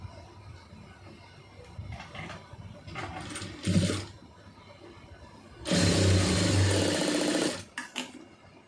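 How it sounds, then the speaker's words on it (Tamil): A sewing machine stitches fabric for a round neckline, with short mechanical bursts early and then one loud, steady run of about two seconds near the end, close by and with no talk. "ரெண்டையும் சேர்த்து அப்படியே தையல் போட்டுருங்க"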